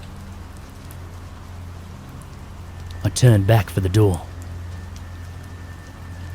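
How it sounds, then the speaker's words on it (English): Gentle, steady rain pats against gravel as a constant hiss throughout, with a voice briefly narrating over it midway. "The peaceful sound of rain patting against gravel."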